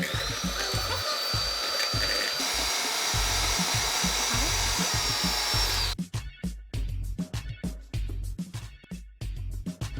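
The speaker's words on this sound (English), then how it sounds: "I'm gonna use an electric whisk to make it go a little bit faster" An electric whisk on a low setting whips cream for topping coffee, giving a steady high motor whir that changes pitch partway, then turns into choppy, uneven buzzing bursts toward the end, close and fairly loud.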